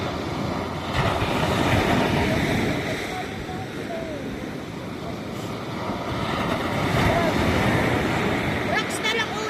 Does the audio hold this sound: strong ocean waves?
yes